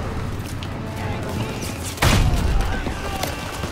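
A tank explodes in the World War II shooter Call of Duty WW2, a sudden heavy boom midway that rumbles and decays amid ongoing gunfire.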